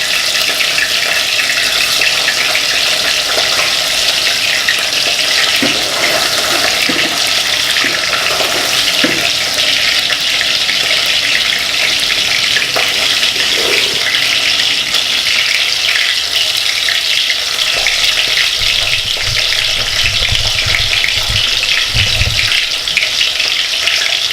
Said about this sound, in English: Don't overcrowd your fish frying.